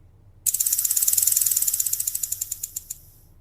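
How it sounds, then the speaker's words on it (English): A lamia's snake tail rattle buzzes in a fast clicking trill that starts suddenly, holds steady, then slows into distinct separate clicks before fading out, close and alone. "Do you like the sound of my rattle?"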